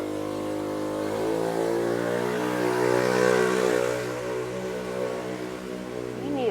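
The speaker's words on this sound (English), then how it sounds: "We need a noise ordinance on some of these scooters." Scooter engine revving as it passes outside during an indoor yoga class, a muffled mid-pitched motor that swells to a peak midway and then fades, heard alone.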